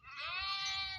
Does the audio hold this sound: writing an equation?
no